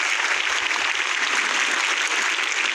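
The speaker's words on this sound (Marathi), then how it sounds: "तर एकदा या गणेश उत्सवाच्या निमित्तानं एकदा जोरदार टाळ्या होऊन जाऊ द्या" A crowd at a Ganesh festival gathering claps vigorously and continuously, a dense, even burst of applause filling the space from start to finish.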